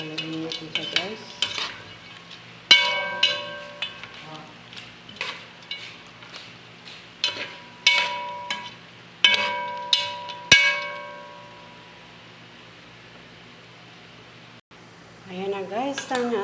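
Adobong sitaw, string bean adobo, is stirred in a pan with a metal utensil, giving a steady series of clanks and scrapes against the pan. It is followed by quiet and then a brief voice.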